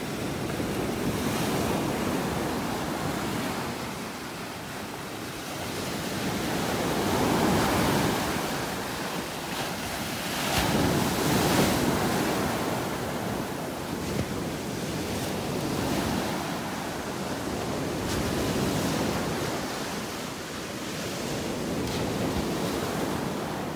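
Ocean waves roll and wash onto a beach in North Naples, Florida as the tide goes out, surging and receding in slow cycles under constant rumbling wind noise on the microphone.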